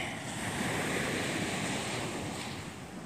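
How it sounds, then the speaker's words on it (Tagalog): Sea waves wash steadily onto the seashore at Abuyog, Leyte, a continuous broad roar mixed with wind buffeting the microphone, with no voices. "sa tabing dagat"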